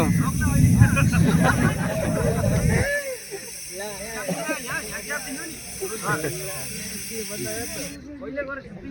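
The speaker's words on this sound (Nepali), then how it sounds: "आगो बोलिसकेको छ।" A gas fire hisses loudly during armed police gas fire safety training in Kirtipur. The roaring hiss runs for about three seconds, then cuts off abruptly and leaves a chatter of crowd voices and shouts.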